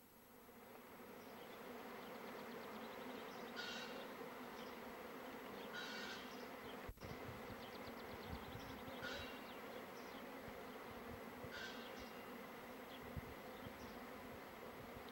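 Bees buzz in a garden as a steady, close droning hum that fills the whole stretch, with a few louder passes and a soft knock midway and no talking.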